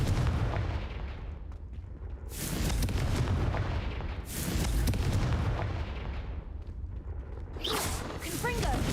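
Confringo spell explosions in the video game Hogwarts Legacy: three loud, booming blasts about two seconds apart, each a sharp burst fading into rumble, with a player's voice shouting over them.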